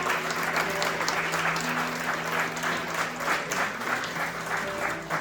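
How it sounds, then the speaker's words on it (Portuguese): A church congregation applauding, a dense, steady roar of many hands clapping at moderate distance, sustained for several seconds without a break. "Você pode aplaudir ao Senhor?"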